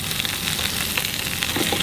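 Brussels sprouts with bacon and balsamic glaze frying in a hot pan on medium heat, a steady close sizzle with soft crackles throughout.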